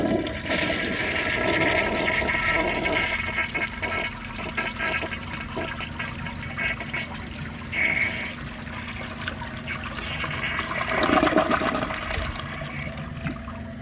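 A 1975 Kohler Highline toilet flushes with a loud, close rush of water that swirls and gurgles steadily, swelling again near the end as the bowl drains and refills, with no talking.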